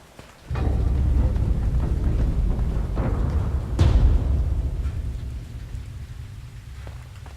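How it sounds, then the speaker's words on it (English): Steady heavy rain pours down with a loud, dense wash, broken by a few rumbling thunder cracks, one strong clap near the middle rolling off and fading as the downpour continues. "this place is raining"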